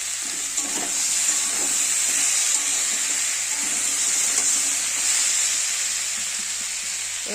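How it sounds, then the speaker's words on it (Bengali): Chopped tomato with potatoes and onion frying in a pan for a fish recipe, a steady close sizzle with occasional stirring scrapes and no talking. "এবার আমি টমেটো কুচিটাকে দিয়ে দেবো।"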